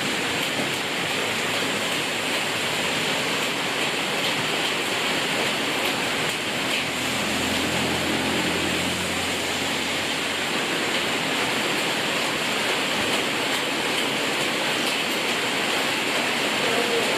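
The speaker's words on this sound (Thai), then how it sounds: "บรรยากาศฝนตกครับ" Steady, dense heavy rain roars continuously throughout at a noodle restaurant in Khon Kaen, Thailand, a broad hiss with no breaks, heavy and close.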